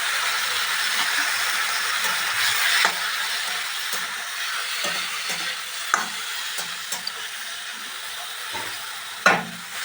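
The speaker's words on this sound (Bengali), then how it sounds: "সাইডে দেখুন চিংড়িটা ভাজছি" Prawns frying in mustard oil in a kadai give a steady, fairly loud sizzling hiss with scattered sharp pops and clicks, and a stronger crackle near the end.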